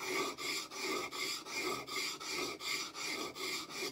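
Woodworking tool edge being honed to remove the burr, a close, steady series of about ten rhythmic rasping strokes back and forth, evenly spaced, with no speech.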